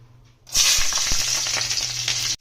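Garlic hits hot oil in a wok and sizzles loudly, a sudden burst of steady, close frying hiss that holds for about two seconds before cutting off.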